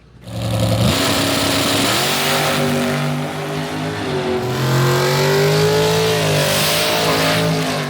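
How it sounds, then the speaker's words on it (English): Drag racing cars rev their engines loudly and continuously at a drag strip in Orlando, with rising and falling engine pitch and a roaring, close-up sound throughout, with no talking. "There's always somebody revving or dragging a tire on something"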